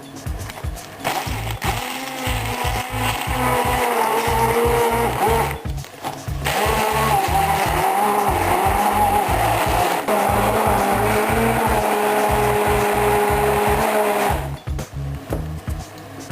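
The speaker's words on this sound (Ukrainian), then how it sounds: "І ось з допомогою такого блендера я починаю ці горіхи збивати." A loud blender grinding nuts whirs steadily, its motor churning hard with a short pause midway and another near the end.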